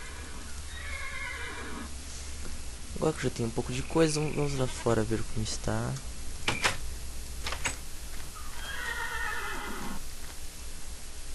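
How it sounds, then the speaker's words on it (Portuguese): Several horses neigh and whinny in a modded video game, with rising and falling calls near and farther off, interspersed with clicks and thuds while someone talks over them. "Tô ouvindo vários cavalos."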